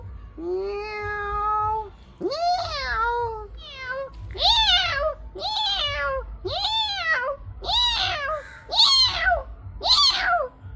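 A person mimics a cat, giving a long drawn-out meow followed by a rapid series of about seven rising-and-falling meows, close and fairly loud, with no other talk.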